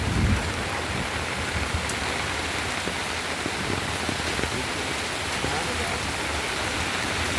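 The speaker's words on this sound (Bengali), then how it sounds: "আপনারা দেখুন এই যে সব ভিজছে বৃষ্টিতে।" Steady rain hissing and pattering on surfaces, a constant broadband wash throughout with faint scattered drips and murmurs underneath.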